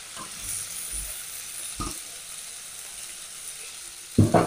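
Khoira hilsa fish sizzles softly in a hot pan with occasional light stirring, then water splashes in with a sudden loud hiss and crackle right at the end.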